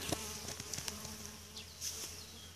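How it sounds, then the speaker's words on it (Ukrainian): Honeybees buzz steadily around a blooming rapeseed field outdoors, several insects passing close by with rising and falling drones over a constant hum, no voices. "Ано ну, бджілки є. Да, є красавиці."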